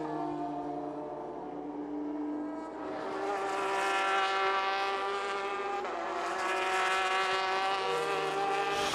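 The number 7 hybrid prototype in the WEC Le Mans-class race at the 2020 Lone Star Le Mans screams past, a loud sustained engine howl that swells and shifts pitch as it goes by, with no talk.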